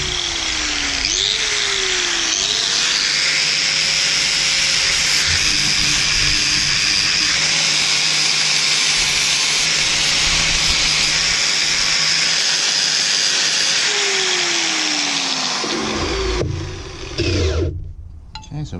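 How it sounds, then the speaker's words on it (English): Welding a stove plate gives a loud, steady hiss and buzz that runs almost unbroken for over fifteen seconds, with a rising and falling machine whine underneath, then cuts off abruptly near the end. "So I'm only welding it on one side"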